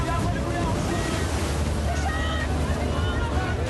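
Open sea waves surge and wash in a steady, loud roar, with wind buffeting the microphone throughout and no distinct breaks.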